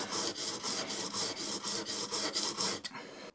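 A scraper plane blade is rubbed back and forth on a 600 grit diamond stone, a close, even rasping in about a dozen quick regular strokes that stops abruptly near the end.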